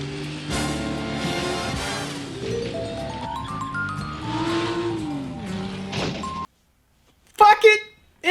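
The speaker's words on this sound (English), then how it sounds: "we get a high-octane car chase, complete with middle finger to every law of physics" An anime film car chase plays out with engines roaring and revving and tires squealing under a swelling orchestral score, then a brief silence before sharp crashing bursts.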